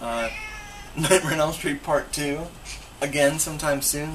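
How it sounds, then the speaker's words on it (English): A cat meows and caterwauls several times, close and fairly loud, over someone talking about a horror film during a movie marathon. "whoa, that's a cat."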